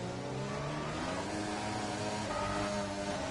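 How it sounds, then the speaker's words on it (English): Red Bull F3 single-seater in a wet-weather racing game, the engine droning at high revs with steady wavering pitch throughout, loud and continuous without talk. "listen to the rev range on the Red Bull"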